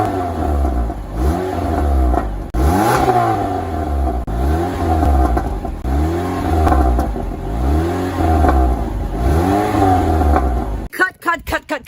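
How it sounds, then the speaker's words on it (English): A car on its stock muffler, not straight-piped, revved hard about half a dozen times in quick succession, each blip rising then falling back, loud and close. "It still has a stock exhaust and it's not even straight piped."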